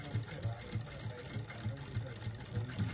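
Sewing machine stitching slowly while attaching piping, with steady repeated mechanical thumps in an even rhythm, close and moderately loud throughout.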